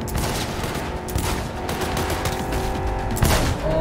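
Dense, continuous gunfire from a shooting fight in Cyberpunk 2077, loud and close throughout with rapid overlapping shots and mechanical clatter, no talking.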